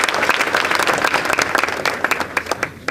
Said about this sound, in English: So let's hear an applause for those sponsors.